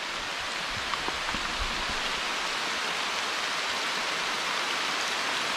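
Light rain falling steadily on a rural Brazilian road during a bicycle tour, a soft, even hiss of drops with a few faint taps, close and constant with no talking.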